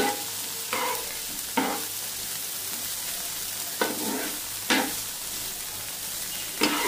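Paneer and tomato fry on a medium flame under a steady low sizzle, punctuated by five or six distinct spatula stirs scraping across the pan at irregular intervals.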